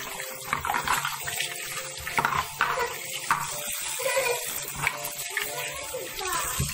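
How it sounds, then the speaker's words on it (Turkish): Tap water runs steadily into a sink as small plastic Lego toys are washed, with splashing and light clattering throughout and occasional faint voices in the background. "Legolarımızı yıkayalım."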